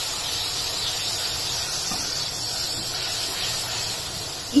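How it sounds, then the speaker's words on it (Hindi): Spices fry in a pan while cooking a broccoli dish in Hyderabadi green gravy, a loud, even, close hiss of sizzling that holds steady throughout with no voices over it. "अब हम ये मसाले इसमें डाल देंगे ताकि मसाले जो हैं वो अच्छे से भून जाएं।"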